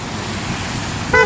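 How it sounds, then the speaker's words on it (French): A short car horn toot sounds near the end over steady traffic rumble and road noise. "Klaxon, bip bip."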